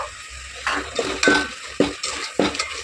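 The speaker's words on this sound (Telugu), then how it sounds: "ఇట్లా బాగా కలుపుతుంటే బాగా ఏగుతుందండి" Cashews frying in a pan for a soya-chunk pulao, stirred with a spoon that makes several sharp scraping clatters over a steady low sizzle, close and fairly loud.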